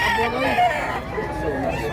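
Roosters crowing amid a busy chicken market, the calls loud and overlapping, with nearby voices murmuring underneath and general crowd bustle.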